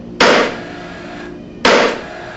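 A hammer drives nails securing a wooden shutter return to the fascia: two loud, sharp strikes about a second and a half apart, each ringing briefly, close to the microphone.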